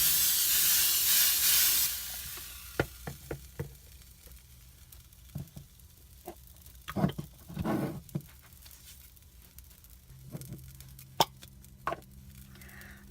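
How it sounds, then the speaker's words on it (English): Canola oil sprays onto a 6-inch mini skillet in a short, loud hissing burst that lasts about two seconds, followed by quiet scattered clicks and light handling taps. "I'm going to spray it with canola oil."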